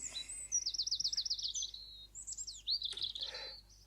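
A blackbird and other local birds sing and chirp nearby, with a rapid trilling phrase followed by sharper whistled calls over a low steady background hum.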